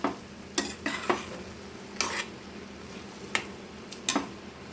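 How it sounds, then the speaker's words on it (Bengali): Masoor dal tadka stirred together with its ingredients in a pan: a few sharp spoon scrapes and knocks spaced irregularly over a soft, steady background, no talking. "সব ইনগ্রেডিয়েন্টসের সাথে ডালটাকে ভালো করে মিশিয়ে নিচ্ছি"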